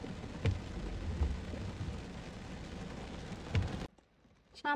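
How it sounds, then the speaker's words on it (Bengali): Steady rain with rumbling thunder on a brick road between sal forests in Gazipur, a broadband wash with two louder low booms before the sound cuts off near the end. "বৃষ্টির পানিগুলো কেমনে আসতেছে।"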